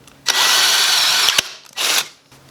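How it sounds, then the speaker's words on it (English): A hand-held power drill bores through the thin sheet metal of a century-old doorbell: one loud, close whine of about a second, a brief pause, then a shorter second burst, with no voices. "I'm just going to drill this with a hand drill"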